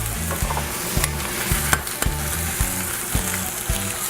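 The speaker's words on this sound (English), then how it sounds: "I'm gonna crack the eggs right into the pan" Eggs crackle and sizzle in a hot frying pan, a continuous close hiss of fat punctuated by a couple of sharp ticks and a regular low rhythmic thump in the background.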